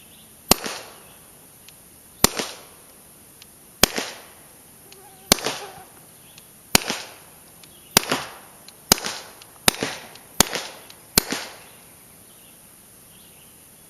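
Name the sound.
suppressed 1911 .22 long rifle pistol gunshots, no suppressor juice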